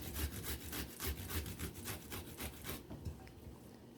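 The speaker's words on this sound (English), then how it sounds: "So I'm just going to be grating, a piece of ginger and add to it." Ginger root rubbed against a grater in quick, steady rasping strokes, close and fairly loud for about three seconds before trailing off into quiet.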